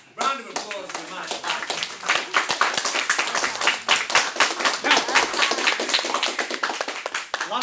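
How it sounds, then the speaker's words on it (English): A chemistry class gives a round of applause, lively clapping from the students running throughout, with voices and chatter mixed in. "round of applause for the man"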